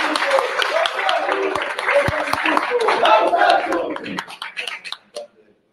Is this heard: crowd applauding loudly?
yes